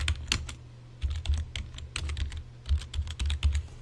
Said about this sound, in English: So we'll be typing this out